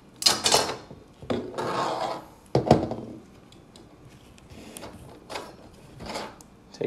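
Intermittent scraping, rubbing and clunking bursts of metal parts being handled while a nut is removed and a small bolt pushed out of a garage door opener idler pulley, close up, with short pauses between sounds.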